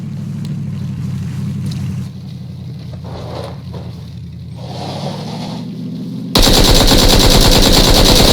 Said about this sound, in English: I don't know what was going on with my first couple of shots